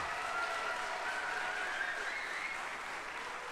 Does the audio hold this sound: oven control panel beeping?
no